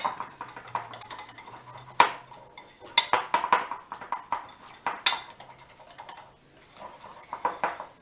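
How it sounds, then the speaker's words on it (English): A spoon stirs balsamic vinaigrette with Dijon mustard in a bowl, producing brisk, irregular clinks and taps of metal against the dish at close range. "you just give it a good stir to get it all blended up"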